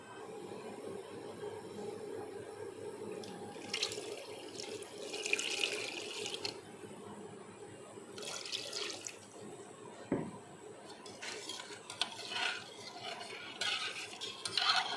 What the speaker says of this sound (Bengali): এটা পানি লাগবে, আরও পানি দিতে হবে।